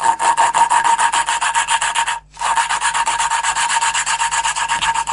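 Close, steady, slightly muffled rasping of metal grinding against metal as a lapping tool twists a valve back and forth on its seat in a Renault 4 engine, pausing briefly before resuming.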